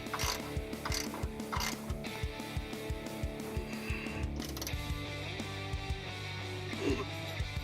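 A ratchet wrench tightening thread-locked bolts on AC Delco rear air shocks of a Chevrolet El Camino, rapid clicking pawl strokes in short repeated runs, close up, with some rubbing and metallic clatter.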